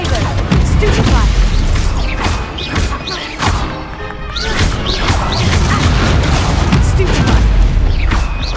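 Stupefy and Incendio spell blasts crash and boom in a Hogwarts Legacy duel, a dense, loud run of impacts and whooshes layered over game music and effects.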